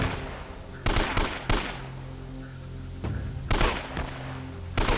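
Gunfire in the video game Uncharted: Drake's Fortune: several sharp bursts of shots in quick clusters, loud and close, separated by brief pauses over a low background hum.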